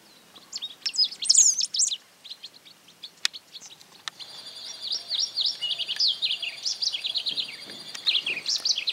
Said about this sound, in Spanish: El arañero de cara negra es un pájaro chico, con un antifaz negro y amarillo en la parte ventral.